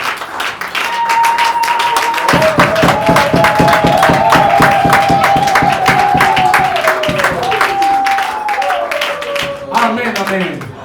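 A church congregation cheers and claps in acclaim of God during a Sunday service, steady loud clapping over sustained voices and organ-like music, continuing throughout.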